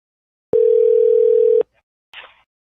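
A steady telephone dial tone sounds for about a second after a dropped phone call, loud and clean, ending abruptly and followed by a short burst of noise.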